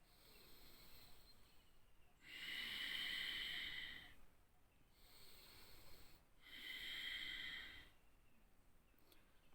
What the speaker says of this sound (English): Now deep inhale and exhale.